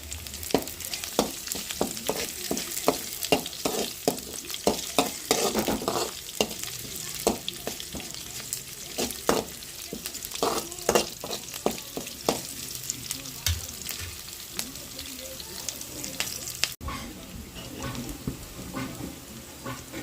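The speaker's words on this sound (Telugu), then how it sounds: "సరే నేను ఉల్లిపాయలు అయితే ఫ్రై అవుతా ఉన్నాయి కదా" Onions, curry leaves and green chillies fry in a pan with a constant crackling sizzle, broken by frequent rhythmic scrapes of a spatula stirring close by, with no voices.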